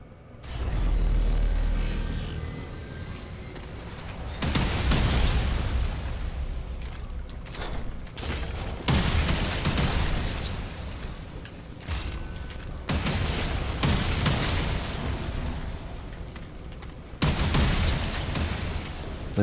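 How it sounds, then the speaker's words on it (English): Heavy booming blasts and rumbling impacts during the Shroud boss fight in Remnant: From the Ashes, loud bursts that recur every few seconds over a dense, continuous battle din. "There are still explosions."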